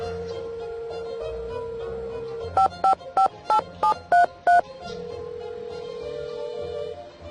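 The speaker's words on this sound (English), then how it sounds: "So now we're going to call some of her friends and see if we can get Nancy out of jail." Touch-tone telephone dialing in the Nancy Drew: Alibi in Ashes video game: a steady dial tone, then seven quick evenly spaced keypad beeps, followed by the dial tone resuming, clear and close with no talking.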